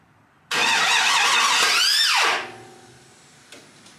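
The LS-swapped Chevrolet C10 engine fires on fuel and runs with a loud, close roar for about two seconds, then winds down and dies, leaving a faint knock afterward.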